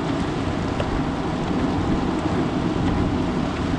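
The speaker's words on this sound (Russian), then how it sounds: "Дождик." Steady rain falls in a rural Siberian village, a dense, even hiss with a low rumbling undertone throughout, no voices.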